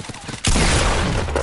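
A single loud gunshot bursts out in a video game, an abrupt sharp blast that stays as a dense noisy roar for about a second.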